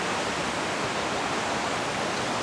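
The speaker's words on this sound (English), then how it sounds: "The water is gushing down right now, but we are at Curtis Falls." Water gushes steadily down Curtis Falls, a dense broadband roar of falling water that stays constant and fairly loud throughout, with no voices over it.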